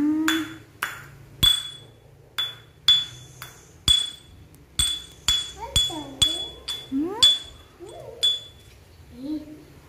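Eggshells pounded by children at a Montessori school, a series of sharp clinking knocks in irregular rhythm, loud and close, with children's voices chattering between the strikes.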